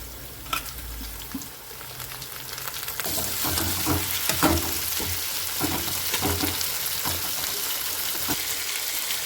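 Tomatoes sautéing with onions in a pan for chow chow kootu, a loud sizzle that swells after a few seconds and keeps going under repeated scraping stirs, with no talk.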